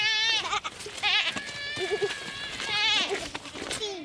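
Children imitate goats with loud, wavering bleats, several quavering calls following one another close up, some overlapping.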